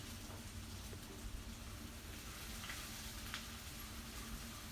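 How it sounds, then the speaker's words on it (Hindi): Chopped ginger and garlic sizzle in a pan as they are sautéed, a faint, steady crackling fry with no voice over it. "इसको सौटे कर लेते हैं जब तक ये थोड़ा सा ब्राउन ना हो जाए।"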